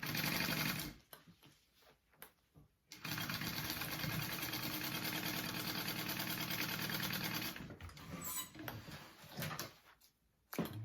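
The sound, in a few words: sewing machine sewing vinyl pieces together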